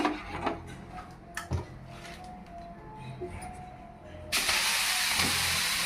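Grated carrot drops into hot ghee in a pan for carrot halwa: a few quiet clinks and scrapes give way to a sudden loud, steady frying hiss that fills the rest, close by and with no talk.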